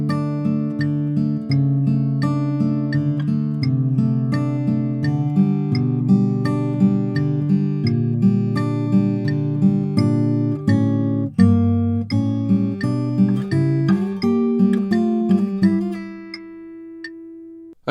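Fingerpicked acoustic guitar plays a simplified intro to a song, with steady arpeggiated notes over bass lines, close and clear, before a final note rings out and fades.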